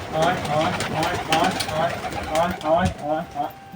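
Pet pigeons kept in a cage coo repeatedly at close range, making soft rolling calls in uneven bursts, partly mixed with a person speaking nearby.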